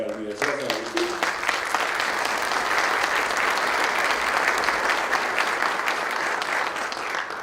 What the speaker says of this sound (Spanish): Un aplauso para la Universidad de San Agustín